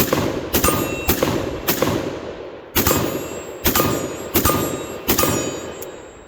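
Single shots from a Foxtrot Mike M47 rifle firing 5.56 ammunition on a range ring out one at a time at an uneven pace, seven sharp, loud reports, each with a short decaying tail.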